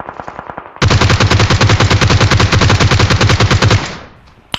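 Automatic gunfire in the mobile battle-royale game PUBG Mobile rips out as one loud, rapid burst of evenly spaced shots lasting about three seconds, then trails off. No voices are heard.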